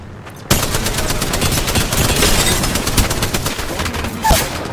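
Rapid bursts of gunfire in a battle royale video game crackle loudly and continuously, with sharp repeated shots and a few louder cracks near the end.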